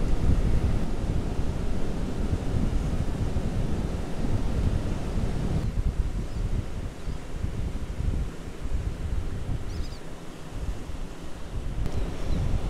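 Surf and wind on the beach at Port Aransas, Mustang Island, Texas, at high tide: continuous washing waves under a constant blustery wind rumble, fairly loud and unbroken, with a slight dip midway and no talking.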